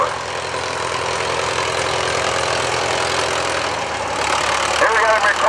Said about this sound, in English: It's a 1931 ag tractor is what it's called. It's got the kind of the street pads on, and with the sickle mower.